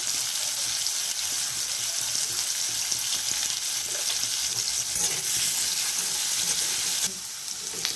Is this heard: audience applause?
no